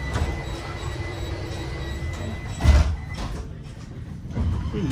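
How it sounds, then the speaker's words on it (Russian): A Vienna tram rolling along its line, a steady close rumble with faint squeals and a brief louder clunk midway, heard from inside. "Трамвай 37 или 38 нам подходит."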